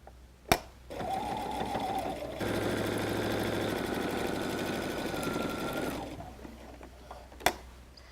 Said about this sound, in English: I'm going to sew that one down